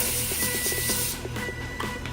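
A short hissing spray of cooking spray onto a foil-lined pan, close up, with a faint clatter underneath and no talking.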